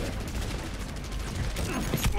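Dense, continuous automatic turret gunfire from the video game Overwatch hammers away at steady loudness, with rapid overlapping shots blending into a roaring barrage.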